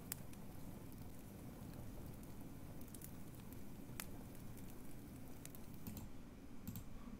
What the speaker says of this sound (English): A fireplace or a campfire